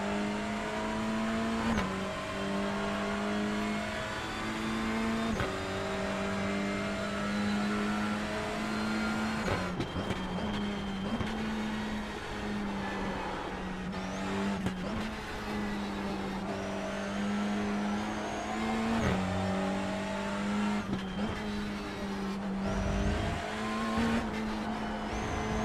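A BMW M4 GT3 race car in the iRacing sim drones steadily at close range for the whole stretch, its engine pitch climbing and dropping through gear changes, with brief tire squeal.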